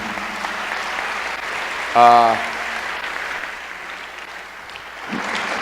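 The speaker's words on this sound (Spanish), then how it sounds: "Dele ese aplauso al Rey bendito" Church congregation applauding the King after a sermon prayer, a steady wash of clapping from many hands with a voice briefly rising over it partway through, then fading.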